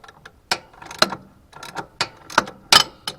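A wrench loosens a bolt on a Farmall Cub tractor, giving sharp metallic ratcheting clicks in irregular bursts, close and fairly loud, with short pauses between.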